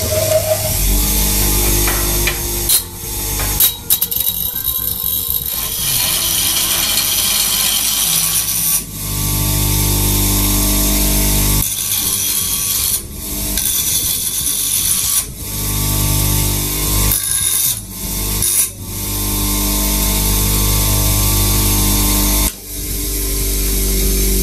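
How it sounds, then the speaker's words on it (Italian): A grinding wheel shapes the steel blade of a small neck knife, with loud, continuous abrasive grinding broken by several brief pauses as the blade is lifted and reapplied, close and alone without talk. "E adesso devo dargli bene la forma con la mola."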